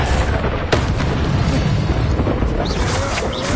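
Confringo explosion spells detonate in a Hogwarts Legacy fight: a steady wall of booming, crackling blast noise, with one sharp crack standing out early and fainter impacts scattered through.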